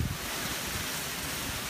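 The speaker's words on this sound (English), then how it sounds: "This wind is just nuts." Strong 75 mph wind roars and buffets loudly against the microphone outdoors after a storm, a dense, continuous rush with no voices.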